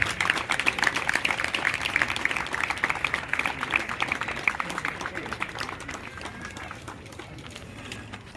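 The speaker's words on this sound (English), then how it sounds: "Give us a big applause." An audience applauds for a guest, California State Assembly Member Jackie Irvin, at a Sri Maharudra Yaaga event, with steady, dense clapping running the whole length at moderate loudness and easing slightly toward the end.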